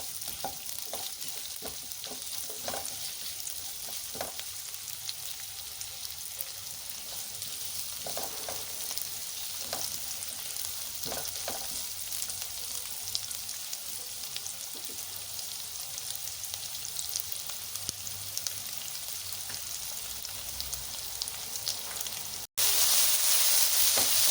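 Poppy seeds roasting in a pan over a low flame, a long quiet crackling sizzle with scattered soft taps and scrapes from stirring, ending in a sudden louder burst.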